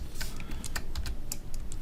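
Typing on a computer keyboard in a MATLAB session on a Raspberry Pi setup, a quick irregular run of soft key clicks at close range, with no voices.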